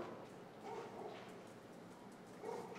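Distant dogs bark faintly a few times over a low, steady background hum, with no one talking nearby.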